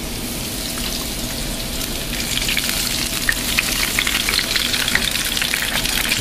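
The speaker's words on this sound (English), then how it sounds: "carefully pose them in a deep fryer without spluttering too much." Tempura-battered asparagus spears deep frying in hot oil, a loud, steady crackling sizzle with dense popping bubbles that grows slightly busier midway, close up and without talk.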